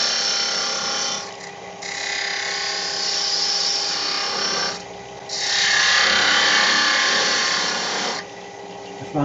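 A fine 1/16-inch parting tool cutting into a wooden egg spinning on a wood lathe, a steady loud rasping scrape in three long passes with brief dips between them.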